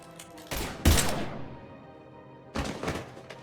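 Gunfire in the video game Mass Effect 3: two sharp bursts of shots close together early on, then a third burst a couple of seconds later, loud against a quiet background.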